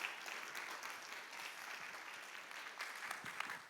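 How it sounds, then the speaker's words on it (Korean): A church congregation claps in welcome for a visiting pastor at a prayer service, a steady, even wash of applause filling the room from start to finish at moderate volume. "마음으로 박수함으로 맞이하겠습니다"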